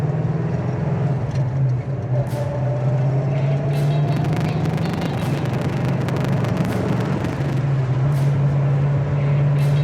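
A 1969 Mustang Fastback engine runs at a steady low rumble, its pitch rising slightly and falling as the car pulls through gear shifts around 2,000 RPM, with a continuous drone of road and mechanical noise.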